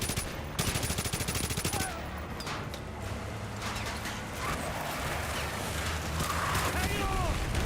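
Rapid machine gun fire in a Call of Duty: Modern Warfare 2 battle, bursts of dense automatic shots at the start and then continuing under loud in-game chaos, with voices talking over it.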